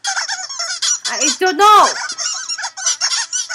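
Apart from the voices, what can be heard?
cartoon birds chirping like squeaky toys, Pixar's For The Birds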